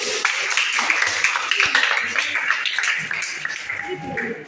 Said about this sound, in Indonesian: Tepuk tangan dulu untuk kawan kita.